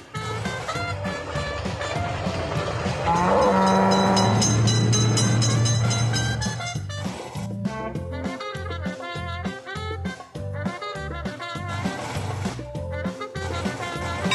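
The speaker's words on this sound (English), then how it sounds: "Train is coming." Loud rumbling of a passing train in the Android game Railroad Crossing Train Simulator with a sustained horn note, giving way to bouncy electronic game music.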